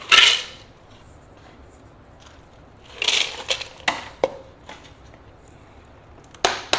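Ice cubes tumble into a blender jar for a protein shake: a few sharp, clattering bursts of hard cubes hitting the container, separated by quiet gaps.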